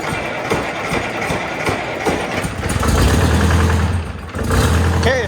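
A Detroit Diesel engine, started after sitting idle for a few months, cranks and catches into a loud, rough running rumble close by, dropping briefly before surging again.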